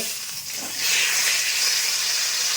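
Boal fish frying in hot oil, a steady broad sizzling hiss that swells louder after the first second and holds close and continuous with no talking.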